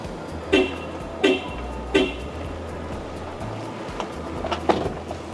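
A Geely MK Cross sounds three short horn-like warning beeps at a steady rhythm while driving with a door open, over constant road and cabin noise, followed by fainter beeps.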